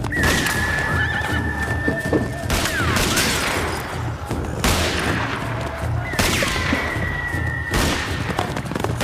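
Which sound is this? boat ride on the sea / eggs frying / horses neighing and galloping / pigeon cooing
horses neighing and galloping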